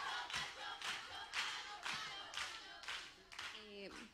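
Concert crowd at a live Radio Disney pop show clapping in uneven bursts with some cheering, fairly faint, with a brief voice near the end.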